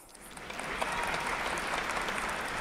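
A stand-up comedy audience applauds a woman in the room, a dense, steady wash of clapping that builds quickly and holds at an even level.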